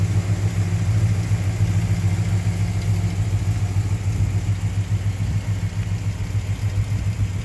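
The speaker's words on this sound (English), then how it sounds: "No unusual sounds coming from the engine bay." A 1968 Plymouth Satellite engine idles steadily and evenly, a close low throb with a faint rhythmic pulse and no interruptions.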